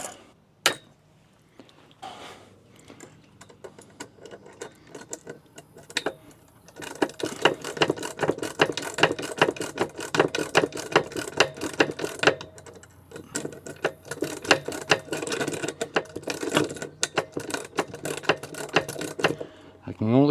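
A wrench ratchets a bolt on metal stair stringers, with rapid repeated clicking in long sustained runs after a few isolated clicks, close and fairly loud.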